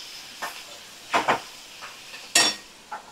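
Mushrooms seasoned with salt and turmeric being stirred in a frying pan: a handful of sharp spatula clinks and scrapes against the pan over a faint, low sizzle, close by.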